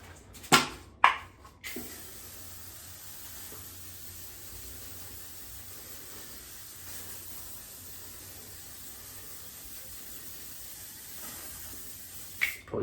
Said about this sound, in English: I can put hairspray in it so it'll stay like that.